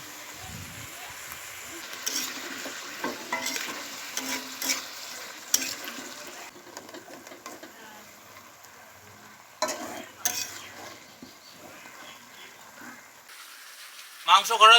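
Onion and garlic frying in a pan, a steady sizzle with intermittent stirring scrapes and louder clatters, close by.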